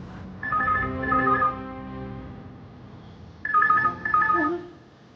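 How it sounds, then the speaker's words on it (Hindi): A telephone rings out on an unanswered call, two separate bursts of a repeating ring tone with a pause between them, fairly close and with no voices. "Come on, Sanjay. Pick up the phone, please"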